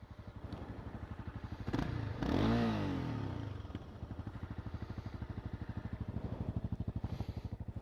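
A motorcycle idling in neutral through its stock exhaust, heard from behind the bike: a steady, moderately loud low putter with a brief rev swelling and falling in the middle before settling back to idle.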